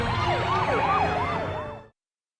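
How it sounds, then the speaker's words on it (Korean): Wailing sirens from approaching black vehicles, a loud close warbling siren sweeping up and down repeatedly before cutting off abruptly. "사이렌을 울리며 등장하는 검은 차량들을 피해"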